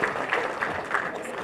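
Audience applause at a community bash, a steady wash of clapping from a crowd lasting just over a second, fairly loud and continuous without voices on top.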